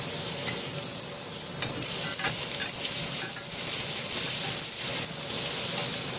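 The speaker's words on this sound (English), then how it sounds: "in butter and just grill it for just a few minutes." Lobster cooking on a grill in rosemary butter, giving a steady close sizzle and hiss with faint crackles running throughout, with no voices.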